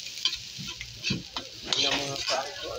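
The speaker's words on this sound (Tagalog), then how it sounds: "Hintayin natin mainit ang mantika, saka natin ilalagay ang bawang at sibuyas" Onion and garlic sizzle and crackle in hot cooking oil while being stirred, with scraping utensil sounds against the pan; someone talks briefly over the frying.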